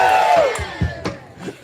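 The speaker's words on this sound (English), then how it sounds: "And the crowd, they made some noise." A crowd at a live music show makes noise with whoops and cheers as a sustained tone fades, followed by a few scattered shouts and thumps.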